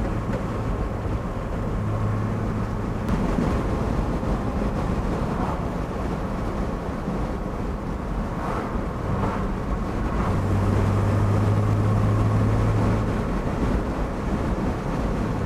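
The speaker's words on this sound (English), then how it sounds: "A bit of wind noise here." Steady broadband wind rush and engine drone inside a moving 1970 Jaguar XKE at speed, continuous and fairly loud throughout with no talking.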